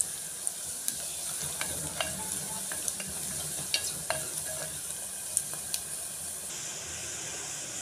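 Asafoetida sizzles in hot oil inside a clay pot, a steady frying hiss with scattered small pops and scraping clicks from stirring, close up with no talking.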